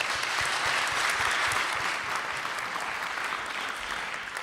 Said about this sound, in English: an applause for him also